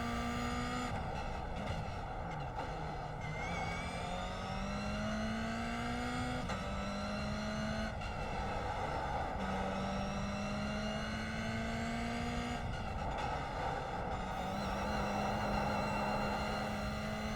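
Toyota GR86 race car in the iRacing sim on the Long Beach street circuit, its engine droning steadily with rising pitch sweeps through the gears and repeated upshift drops, loud and continuous throughout.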